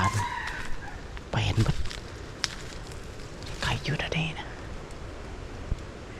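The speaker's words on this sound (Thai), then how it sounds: "ยินเสียงไก่ขันแล้วพี่น้อย" A rooster crows in a hot forest area in Thailand, bursts of crowing and clucking rising twice amid soft ambient noise, with quiet speech and whispering nearby.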